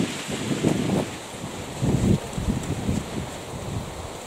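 Gusty wind buffets the microphone outdoors in a kitchen garden, rising and falling in uneven rumbling bursts with a steady airy hiss behind them.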